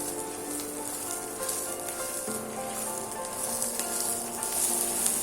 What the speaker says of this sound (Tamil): இது எல்லாத்தையும் சேர்த்து ஒரு 2லேருந்து 3 நிமிஷம் நம்ம லோ ஹீட்டில் நல்லா ஃப்ரை பண்ணி எடுத்துக்கணும்